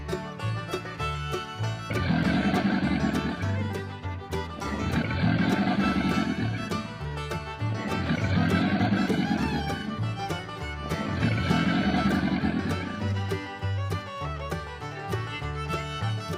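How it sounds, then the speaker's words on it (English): A crocodile gives four deep, rumbling roars at regular intervals over a looping musical backing. The growls are loud and close, with no voices. "Crocodile."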